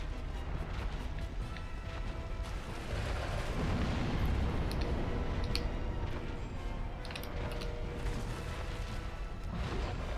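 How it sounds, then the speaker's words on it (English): Fire bombs bursting in the Dark Souls video game, a dense, continuous roar of crackling blasts and rumbling booms layered over game noise, loud and sustained throughout with a heavier swell midway. "I could probably use fire bombs."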